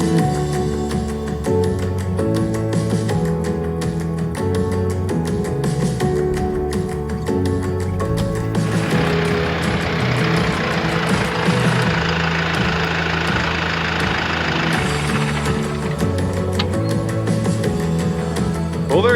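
A farm tractor used for feeding hay to cattle idles steadily and close by, with a knocking rumble throughout and a brighter rising whine in the middle, and no voices.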